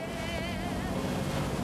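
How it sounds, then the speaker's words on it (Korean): Engine of an anchovy fishing boat from an autumn fleet working the sea off Daebyeon, Busan, a steady close-up drone with wind and water rushing over it throughout. "부산 대변 앞바다는 가을 멸치잡이 선단의 엔진 소리로 활기에 넘쳐 있습니다."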